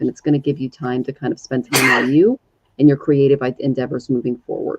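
A single sneeze bursts out between stretches of a woman's steady speech during a live tarot reading, loud and close, with talk resuming right after.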